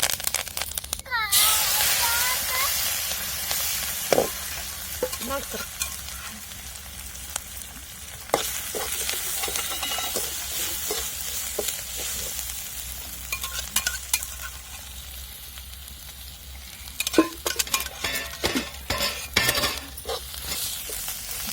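Curry leaves, cumin and spices sizzle while frying in a pan for a potato chutney, a steady close hiss with sharp crackles and pops plus occasional spoon scrapes and clinks against the pan.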